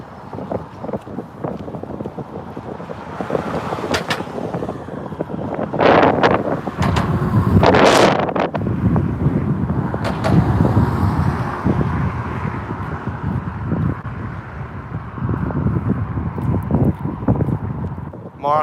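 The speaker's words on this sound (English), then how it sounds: "Yeah, Pamela, it is windy." Strong gusts buffet the microphone while walking across the Greenpoint Avenue bridge between Queens and Brooklyn, loud rumbling wind bursts rising and falling over traffic and footsteps.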